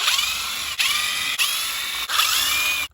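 A hand tool unscrews the motor mount screws on a Traxxas C8 Corvette RC car, giving steady, close ratcheting clicks in several bursts with short pauses between them.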